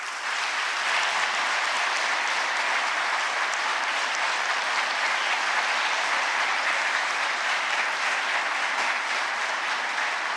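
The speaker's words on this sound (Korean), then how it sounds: "여러분, 뜨거운 박수로 환영해 주십시오." Sustained audience applause fills the hall at a national policy report event as the South Korean president is welcomed, a steady dense clapping that stays loud and even throughout with no talk over it.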